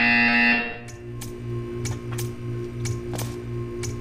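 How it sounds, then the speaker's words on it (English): A buzzer drones through the clip in Portal 2, overlaid with sharp periodic clicks at a steady, even pace; no voices are present. "You will hear a buzzer. When you hear the buzzer, stare at the art."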